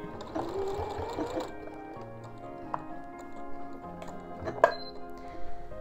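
A sewing machine stitches fabric while a bias binding is sewn to a sweatshirt neckline, running in a steady mechanical hum for the first second or so, then quieter ticking and clicks with a sharp metallic tap near the end.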